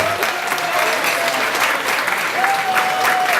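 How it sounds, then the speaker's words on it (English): Wedding guests applaud the bride in a steady, dense burst of clapping that fills the room, with a faint whistle or cheer rising above the applause. "Let's have a big round of applause for the bride here now"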